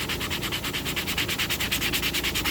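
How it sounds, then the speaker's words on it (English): Sandpaper rubbing over slightly sappy wood to smooth it, with fast, even back-and-forth strokes in a steady close rasping rhythm and no talking. "But you can even sand that off. Make it all nice and smooth."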